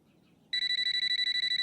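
A phone starts ringing abruptly partway in, sounding as a loud, close, rapidly pulsing electronic tone that repeats steadily to the end after a quiet start.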